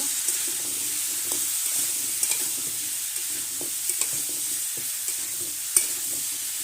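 Ginger and garlic fry in a pan while being stirred, giving a steady close sizzle broken by scattered scrapes and clicks of the spoon against the pan, with no talking.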